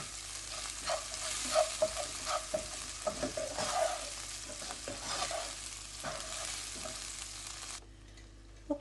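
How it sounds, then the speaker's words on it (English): Frozen peas and sweet corn being stirred in a pan with potatoes, a continuous scraping and sizzling stir with soft clacks of the spoon, no voices. "we're just going to add the frozen peas and the sweet corn, and then just mix that up."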